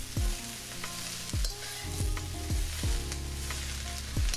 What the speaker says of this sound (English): And now it's time to add that multicolored cauliflower